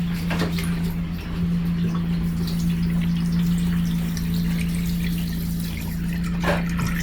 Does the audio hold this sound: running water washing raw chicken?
yes